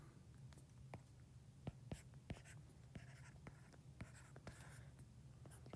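A pen scratches out a physics equation on paper by hand, quiet close strokes and taps coming in short irregular bursts against a faint low hum.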